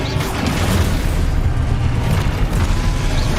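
Spells in Hogwarts Legacy erupt in a dense, continuous rumble of booms and bursts, loud and close, with no clear gap between blasts.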